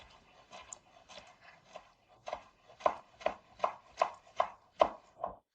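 A knife slicing bacon into thin strips on a cutting board in a home kitchen, a series of about a dozen crisp chopping knocks growing steadier and louder, close by with no voice.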